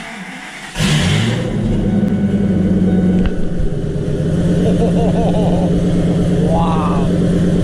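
A V10 engine with its catalytic converter cut off fires up abruptly and then idles loud and rough, with throttle blips rising in pitch near the end, heard close and alone.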